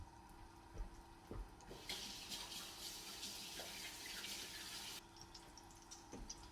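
Water runs from a kitchen sink tap as hands are washed, a steady hiss that starts after a couple of light knocks and stops about three seconds later, fairly close but soft.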